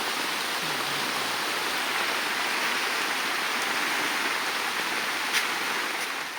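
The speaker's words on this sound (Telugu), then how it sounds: "వాన చూడండి ఎలా పడుతుందో" Steady, dense night rain hiss fills the whole stretch, a continuous broadband wash with no pauses and no voices.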